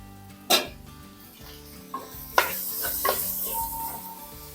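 Tomatoes softening in a pan for a potato fish curry sizzle steadily, with sharp clatters of a spoon stirring against the pan at irregular moments, close by and without talk.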